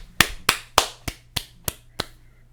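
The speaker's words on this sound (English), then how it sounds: "Thanks for those claps." Hands clapping at a baseball pregame show, seven sharp claps in a steady rhythm, the first three louder and the rest a little softer, close and alone over a low background hum.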